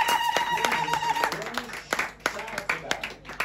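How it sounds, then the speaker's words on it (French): Church congregation clapping during a prayer and deliverance service, a sparse scatter of sharp hand claps and taps over loud talking in a reverberant hall. "want you to clap"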